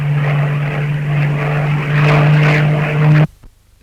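Hawker Tempest V fighter plane roaring past, its piston engine a loud sustained growl with a strong steady drone that swells slightly before cutting off abruptly near the end.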